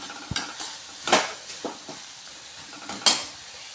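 A spoon stirs pirandai chutney ingredients in a pan, scraping and clinking against the metal in a few scattered strokes over a faint, quiet sizzle.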